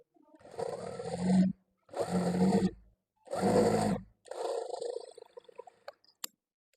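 A sewing machine stitches cloth along marked lines in four short, close runs, each a steady mechanical hum and clatter of about a second with brief gaps between, ending in a few light clicks.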